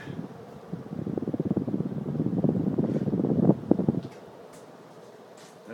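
A Moss Heirloom Deluxe 52-inch ceiling fan running on high, giving a loud, steady whooshing rush of air with a fluttering beat that cuts off abruptly near the end, leaving a quiet room.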